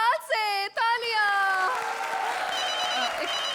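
A studio audience on a comedy show breaks into applause and cheering right after a voice speaks, the clapping swelling into a dense, steady wash that carries on to the end.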